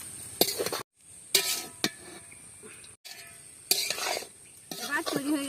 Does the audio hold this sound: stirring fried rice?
yes